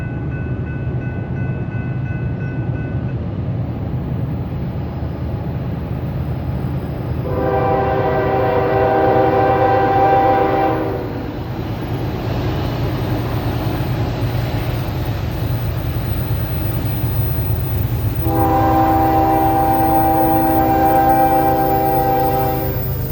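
Freight train 22X climbs a hill, its diesel engines rumbling steadily and loudly while the multi-chime horn sounds in two long blasts separated by a pause.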